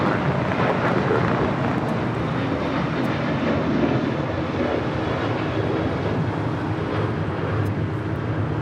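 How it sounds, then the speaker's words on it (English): An Alaska Airlines Boeing 737-800 departs Los Angeles International Airport with a loud, sustained jet engine roar and heavy low rumble that holds steady throughout. "That is Alaska Airlines 1446 departing to Los Cabos on a 737-800."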